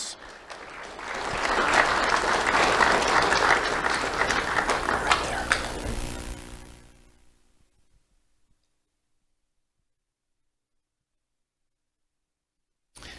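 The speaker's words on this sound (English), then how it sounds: "Let's have a round of applause for Gunnar and Marquis." Audience applause for award winners at a Do The Right Thing awards event, building quickly into loud, dense clapping, sustained for about six seconds, then fading out to near silence.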